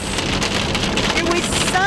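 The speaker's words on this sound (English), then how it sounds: "Now it's hailing." Rain and hail pelt a moving bus driving through mountain weather, a dense, continuous drumming and hiss with scattered sharper hits throughout.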